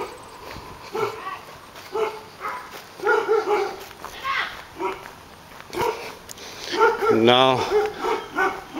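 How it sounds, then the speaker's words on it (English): Dogs barking outdoors along a roadside walk in Canada, intermittent barks mixed with someone talking over them, with one louder, closer burst of barking near the end. "barks, dogs are barking"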